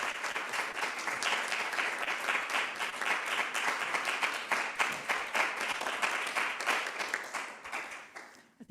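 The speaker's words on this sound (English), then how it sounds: "I think the length of the applause says it all, Rory." Sustained audience applause at a university seminar after a speech, a dense even wash of many hands clapping for several seconds before tapering off at the end.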